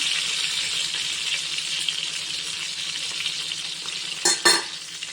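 Stuffed brinjal, Andhra-style guthi vankaya, sizzles steadily in oil in a pan, with a couple of sharp scraping knocks near the end as the pieces are turned. No talking.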